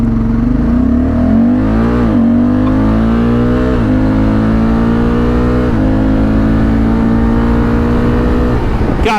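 A 2024 Honda Africa Twin DCT ES motorcycle accelerating hard toward 200 km/h, engine note climbing loud and close through several automatic gear shifts, with rising wind rush.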